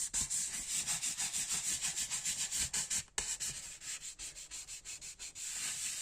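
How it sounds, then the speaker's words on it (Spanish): In cartonnage work, a spatula smooths a damp sheet of paper, pushing out bubbles and creases with steady, rhythmic scraping strokes, close and alone, with a brief pause midway. "ahora sí vamos extendiendo bien la hoja y quitamos bolsas"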